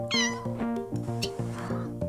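A cat in the VR video game Kitten'd meows repeatedly in quick succession, clear and close, with drawn-out tonal cries and no talking over them.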